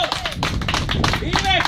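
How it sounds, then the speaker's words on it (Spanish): Congregation applause at an evangelistic service in La Sabana: a steady wash of clapping that runs under a preacher's loud, continuous speaking voice throughout. "Dale un aplauso a Cristo, alabado sea el que vive."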